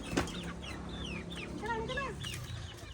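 Chickens cluck and chirp softly over a busy rural yard background, with several hens making rising and falling calls close by.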